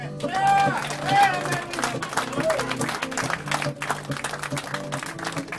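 Club audience in New York applauding a guitar player after his solo, dense clapping and some cheers mixed with speech and lingering guitar notes, moderately loud and fading toward the end.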